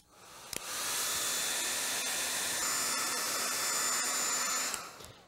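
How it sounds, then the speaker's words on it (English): A hair dryer blows steadily at close range, a loud even whoosh with a high whine that starts abruptly and cuts off after about five seconds. "we're going to use the hair dryer to dry it out a little bit."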